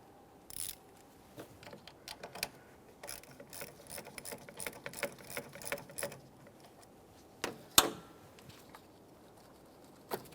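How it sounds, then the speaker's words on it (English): Ratchet clicking in short bursts as it loosens the 10mm terminal nut on the battery of a 2008-2017 Mitsubishi Lancer, a close, fairly quiet mechanical patter with one sharper clunk near the end. "We'll loosen this just enough that we can remove the terminal end from the battery and set it aside"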